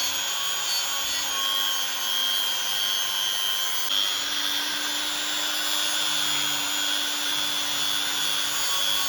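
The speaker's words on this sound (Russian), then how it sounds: "Вот шлифуем." A handheld rotary tool whines steadily at high speed while sanding a steel knife blade whose handle is wrapped in tape. The close, even buzz runs without pause and no one speaks.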